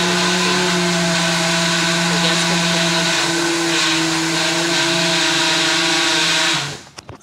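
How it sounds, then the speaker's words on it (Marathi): A kitchen mixer grinder grinds cooked puran filling, a loud, close, steady motor whine with a strong droning hum that holds for over six seconds before winding down and stopping, with a few clunks at the end. "आणि मिक्सरला सर्व पुरण वाटून घेतलं."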